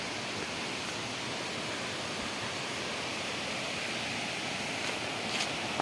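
Water pours over a dam like a waterfall, a constant, fairly soft broadband roar heard from a distance, steady and unchanging with no voices.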